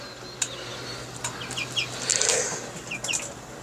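Pet birds call in the morning with several short, bright chirps and squawks scattered through a constant room hum, mid-distance and moderately loud, with a faint flutter of wings.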